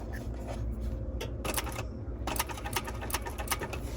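Sewing machine running at a 5 stitch length along a 1/4 inch seam allowance around a Windsor bag, a steady mechanical whir with clustered needle-tapping bursts, fairly close and continuous without talk.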